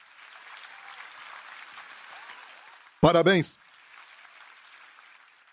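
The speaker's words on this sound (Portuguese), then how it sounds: "Dê para si mesmo um grande aplauso, igreja." A church congregation applauding in a steady, dense wash of clapping, with one voice briefly calling out a word partway through.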